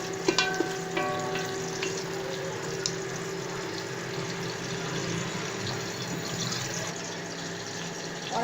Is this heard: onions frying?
yes